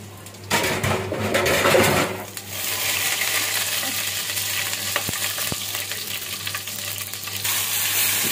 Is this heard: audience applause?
no